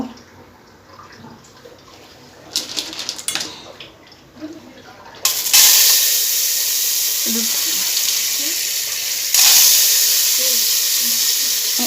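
Salted corn for popcorn goes into smoking hot oil on a stove and sets off a loud, steady sizzling hiss. The hiss surges again partway through, after a stretch of quieter kitchen clatter and faint sounds at the start.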